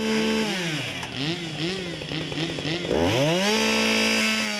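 A chainsaw cuts wood at a Lviv tree-feller competition in 2016. The engine whines loud and close throughout, its pitch rising and falling repeatedly as the throttle works through the cut, then surging at the end.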